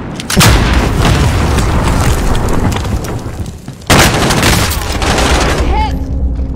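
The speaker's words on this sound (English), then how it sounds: "Grenade out!" A grenade blast and heavy gunfire in Call of Duty Warzone, loud and dense, with a second booming explosion midway and a brief voice near the end.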